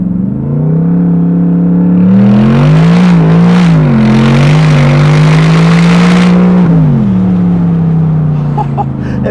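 A car with a loud exhaust accelerates hard, its engine note climbing and dropping through gear changes, a close, sustained roar and drone throughout.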